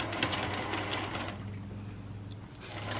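A sewing machine stitches quilt sashing, running in a fast steady rhythmic hum close by, easing off briefly before picking up again.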